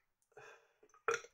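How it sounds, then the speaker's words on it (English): A short throaty burp sounds close by after drinking water during a Chimay beer tasting, followed by a brief, louder second burp, each with silence around it. "I've just drunk some water and I'm already burping."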